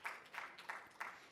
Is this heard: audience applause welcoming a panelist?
yes